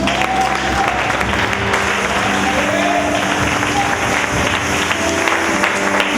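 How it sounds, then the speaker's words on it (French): Church congregation applauding and acclaiming the Lord Jesus, steady continuous clapping and crowd noise with voices mixed in throughout. "Acclame le Seigneur Jésus."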